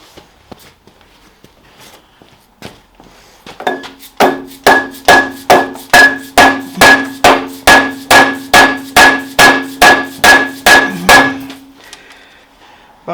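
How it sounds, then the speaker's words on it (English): Repeated tapping with a plastic mallet on a nut during the strip-down of a 220 engine: about sixteen steady, evenly spaced sharp knocks, close and loud, with a faint ringing tone behind them. "Just going to give it a tap with plastic mallet."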